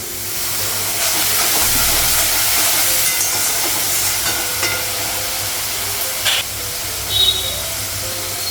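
Cumin powder and spices frying in a pan, a loud steady hiss of hot oil throughout, with a couple of sharper spitting bursts as water goes in near the end.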